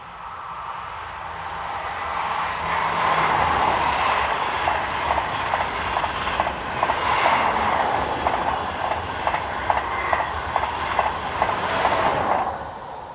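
A pair of coupled TGV Duplex sets, numbers 604 and 817, rush past on the Mâcon to Chalon-sur-Saône main line, a loud swelling roar with rapid rhythmic wheel clatter over the rail joints before fading away.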